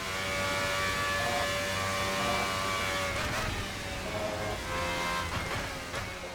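RSS Formula Hybrid V12 race car in the Assetto Corsa racing game, its high-pitched V12 engine droning steadily at close range before quick downshifts drop the revs with a few sharp blips, no talk.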